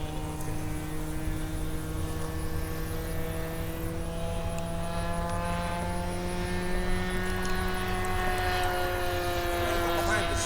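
A Phoenix 1:6.5 Cessna Skylane 182 RC model plane flies over a grass field, its engine giving a steady droning whine that slowly shifts pitch as the throttle eases, with voices talking over it.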